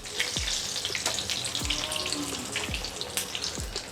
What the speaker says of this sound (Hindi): इसे हमें हाई फ्लेम पे ही फ्राई करना है।